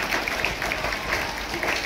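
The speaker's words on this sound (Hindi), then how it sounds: "ताली बजाइए" Applause from a school audience, a steady wash of clapping heard at a distance, even and sustained throughout.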